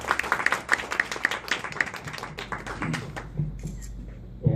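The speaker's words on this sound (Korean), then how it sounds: "박수 한번 부탁드리겠습니다." Lecture audience applauding as a professor is brought up to speak, a brisk burst of clapping that thins out and fades after a few seconds, with a little talk near the end.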